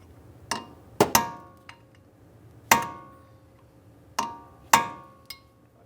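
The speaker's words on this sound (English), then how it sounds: "We'll continue with our hammer and punch, drive this down and in." Metal punch struck with a hammer to peen a front CV axle nut into the axle shaft slot on a 2006-2012 Ford Fusion: six sharp ringing metallic blows in uneven pairs, close and clear, with faint clinks between.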